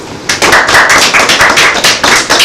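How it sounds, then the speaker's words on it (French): Small audience at a Togolese event breaks into applause, a loud, close burst of hand claps with uneven rhythm starting after a brief pause and continuing in waves. "Des applaudissements pour lui."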